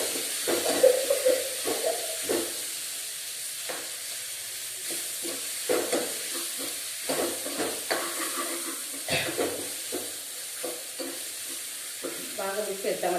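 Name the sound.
potatoes being stirred and fried in a pan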